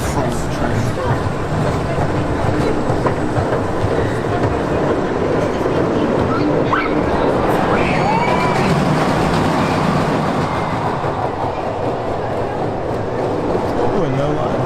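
Draco, a kiddie family roller coaster at Walibi Holland theme park, rumbles steadily along its track with a continuous rolling clatter, a busy park ambience and crowd chatter running underneath throughout.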